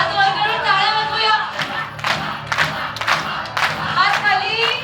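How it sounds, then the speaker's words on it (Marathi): A crowd at a baby naming ceremony claps with hands raised, rhythmic clapping bursts mixed with cheering and shouting voices close by. "हात वर करून टाळ्या वाजवूया"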